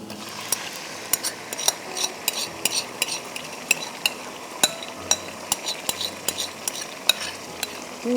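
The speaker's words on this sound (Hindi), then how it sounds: "इसमें हम मैरिनेटेड चिकन डाल देंगे।" Marinated chicken with freshly crushed garlic cooks in a pan, with a soft steady sizzle beneath repeated sharp clinks and scrapes of a spoon stirring against the metal, close and fairly quiet.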